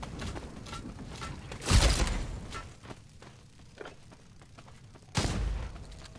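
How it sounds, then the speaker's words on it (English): A fireworks launcher special weapon fires in the battle royale game NARAKA: BLADEPOINT, two loud bursting blasts with crackling decay over a busy background of game effects and faint footsteps. "He's got one of the special weapons. It is kind of a fireworks launcher."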